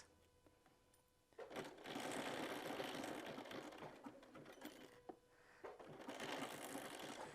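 A sewing machine stitches along the edge of a soft Cuddle fabric blanket, running in quick bursts of rapid mechanical whirring with short pauses between them.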